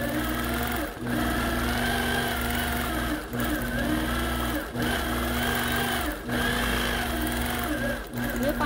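A quilting sewing machine stitches a curlicue into a feathered wreath quilt design, running as a loud, continuous close-up hum with brief dips in speed every second or two.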